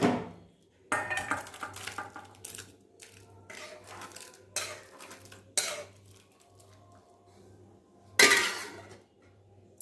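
A metal lid set on a cooking pot in a home kitchen, with several sharp clanks and rattles of metal on metal spread across the clip, close by, separated by quiet gaps and no talking.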